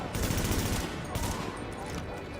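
Automatic weapon fire in The Division, a shooter video game: dense, rapid bursts of gunshots crackle continuously at close range, with sustained volume throughout.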